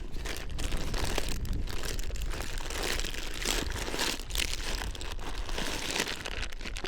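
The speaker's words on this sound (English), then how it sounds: "let's go ahead and rip open this top up here" A plastic package of wacky worm fishing lures is torn open, giving continuous close crinkling and crackling of plastic for several seconds with a faint tearing texture, and no talk.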